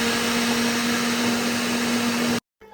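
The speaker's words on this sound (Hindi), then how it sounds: "सबसे पहले यहाँ पे मैं आलू श्रेड कर रही हूँ" An electric vegetable chopper shreds potatoes with a loud, steady motor whine and grinding roar. It runs evenly for about two seconds, then cuts off abruptly into near silence.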